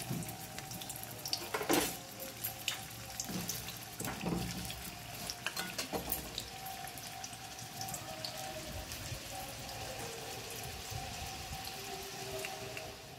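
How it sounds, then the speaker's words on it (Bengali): Four peeled potatoes frying in hot oil for a Bengali mutton curry, a steady soft crackle and patter of bubbling throughout with a few louder pops near the start, no talk. "আলুটা আমার লাল করে ভাজা হয়ে গেছে"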